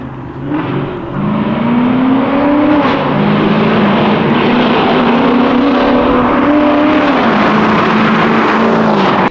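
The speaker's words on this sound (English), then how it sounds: "as you guys have heard, my car is already pretty loud." A loud C5 Corvette V8 engine idles and revs steadily, its deep rumble rising and falling slightly, close by with no talking.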